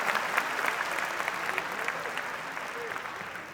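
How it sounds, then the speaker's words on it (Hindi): An audience at a Hindi comedy poetry gathering claps steadily to welcome the first poet onto the stage, a dense, even wash of applause that fades slightly toward the end. "दोनों हाथ उठाकर जोरदार तालियों के साथ बुलाइए रोहित शर्मा"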